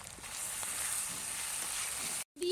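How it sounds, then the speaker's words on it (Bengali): Native potatoes fry with onions, salt and turmeric in a hot pan. The sizzle is steady and close, runs unbroken almost to the end, then cuts out for a moment. "দেশি আলু ভালো করে ভেজে নিলাম"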